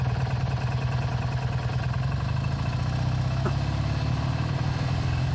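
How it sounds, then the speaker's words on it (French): A Triumph motorcycle engine idles steadily with a deep, even throbbing rumble that stays constant throughout. "ça, c'est bien un bruit de moto anglaise"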